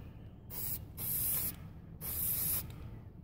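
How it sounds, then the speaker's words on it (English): Silver spray paint hissing from an aerosol can onto a Switch Pro controller as a base coat before hydro dipping, in two close, loud bursts of about half a second each, with a quieter hiss between them. "Just spray a bunch of silver in there to give it a good base."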